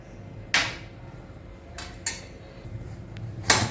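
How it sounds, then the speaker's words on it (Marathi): A pressure cooker whistle is lifted off: three sharp metallic clinks ring out at separate moments over a quiet kitchen background, close and crisp. "आपण आता शिट्टी वर करून पाहूयात शिट्टी काढून घेऊयात बाहेर"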